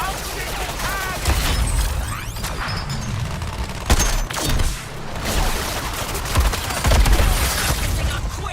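Gunfire from the video game Suicide Squad Kill the Justice League, with bursts of shots and booms over game effects and mechanical noises, mixed with character voices talking.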